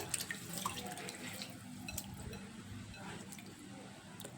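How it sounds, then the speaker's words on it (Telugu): Basmati rice being washed in a pot, with soft running and sloshing water, light splashes and drips continuing at a low, close level throughout. "బాస్మతి రైస్ శుభ్రంగా వేసుకొని వాష్ చేసుకోవాలండి"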